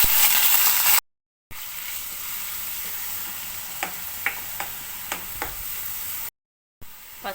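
Sliced onions added to a few spoons of hot oil for a spicy Kerala chicken dry roast, giving a steady frying sizzle cut by two short silent gaps, with a few light spoon clicks midway.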